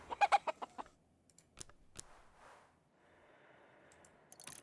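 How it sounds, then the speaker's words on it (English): Chickens cluck in the video game Book of Hours: a quick burst of close, rhythmic clucks, then a few scattered single clucks over a faint background, with no speech. "let's talk to the chickens"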